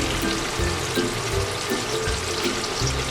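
Tofu balls frying in hot oil in a pan give a steady, close crackling sizzle with bubbling, continuous throughout without any talking.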